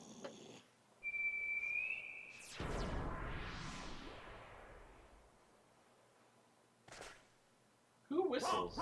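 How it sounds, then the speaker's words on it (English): In Kingdom Hearts 2, someone gives a single steady whistle lasting about a second. A long whooshing rumble and a few brief thumps in the game scene follow it. "Who whistles?"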